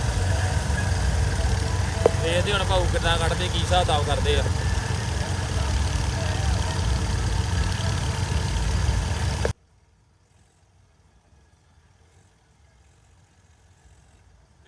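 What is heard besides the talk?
tractor engine idling in sand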